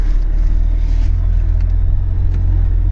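Agricultural vehicle with GPS parallel-driving guidance running steadily through a turn at the field edge, a loud continuous low engine drone close by with no talk.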